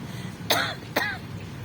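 A person lets out two short, rough coughs about half a second apart, close to the microphone against a low background hum during a healing session in Mandaue, Cebu.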